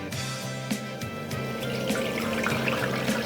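Cold water pours steadily into a container for a pork tenderloin brine, a continuous close splashing stream with a faint bubbling churn and no talking.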